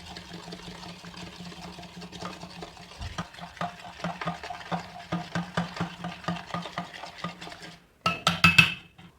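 Fresh curd, 500 grams, being stirred and mixed in a bowl for raita, a steady run of soft scraping and clinking strokes, close and moderately loud, with a brisker burst of quick strokes near the end.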